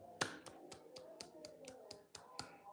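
Sharp hand claps, about ten of them, struck in a steady quick rhythm at a live-streamed gathering, each crisp and close with little else around them.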